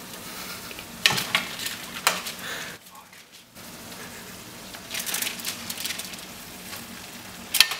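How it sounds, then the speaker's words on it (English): Meatballs dropped into hot, bubbling pizza sauce, giving a steady sizzle and crackle with a few sharper pops and bursts, close by, as people talk over the cooking. "now we're gonna add them to our sauce, which is cooking away"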